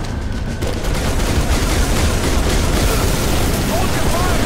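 Heavy gunfire from the Halo 3 Crow's Nest mission, a dense continuous barrage of shots and blasts with booms mixed in, loud and close throughout.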